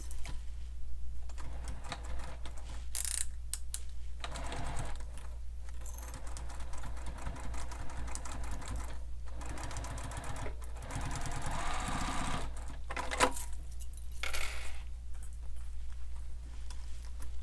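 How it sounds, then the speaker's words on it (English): A domestic sewing machine runs a full seam through a sling pack with its lining attached, a steady mechanical chatter of needle strokes in several runs broken by short pauses, close and fairly quiet, with no talking. "And then we're going to sew this with a full seam allowance."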